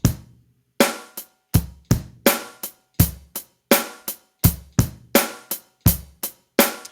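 A drum kit plays a groove once through with an accented push and a fill, sharp kick, snare and cymbal hits in a steady driving rhythm, loud and close, with no talking.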